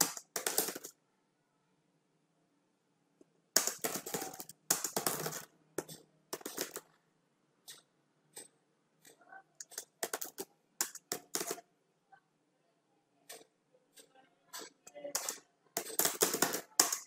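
Computer keyboard typing while entering text in Android Studio, with bursts of quick close clicks separated by pauses, crisp and near, with no talking.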